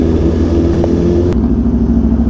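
A BMW S1000RR with a drag setup, engine idling and revving loudly up close: a deep, heavy rumble with a pulsing low throb, heard alone.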